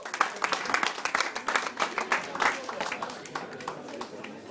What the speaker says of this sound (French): un petit applaudissement pour eux